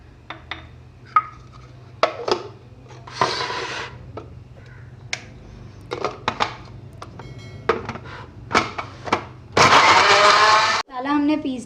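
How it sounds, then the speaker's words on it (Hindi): Scattered kitchen clatter and brief talk lead into a loud electric blender grinding spices with a little water, whirring for about a second near the end, then cutting off. "अब ये सब हम ब्लेंडर में डाल के ब्लेंड करते हैं।"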